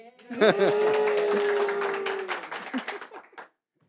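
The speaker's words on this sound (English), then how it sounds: "They're applauding because they think there might be cake" A studio audience at a television inspirational talk show applauds with a scattered patter of claps beneath a person speaking, the clapping thinning out before it stops.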